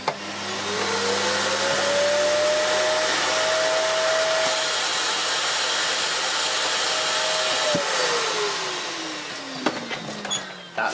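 A Hoover Dust Manager 2300 W cyclonic cylinder vacuum cleaner whines up to speed, holds a steady loud roar for several seconds, then winds down with a falling pitch, heard close and without talk.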